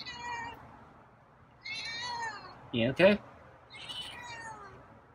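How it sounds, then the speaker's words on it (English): A feral cat gives several meows, some drawn out and one a quick double cry, close by and fairly quiet. A person speaks softly between the calls. "I got some meows."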